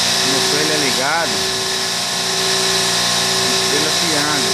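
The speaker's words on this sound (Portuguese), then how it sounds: "O motor ele é ligado" Electric motor on an electrical control panel being tested, running with a steady loud hum and whine, with someone talking over it.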